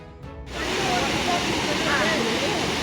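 A waterfall near Tirparappu in Kanyakumari gives a steady, loud broadband rush of falling water that fills the clip after a short quieter opening.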